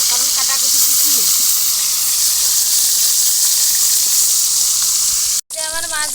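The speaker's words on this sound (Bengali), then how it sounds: "আমার মাছগুলো ভাজা হয়ে গেছে" Pangas fish pieces fry in a little oil with a loud, continuous sizzling hiss close by. A voice speaks briefly at the end after a short break in the sound.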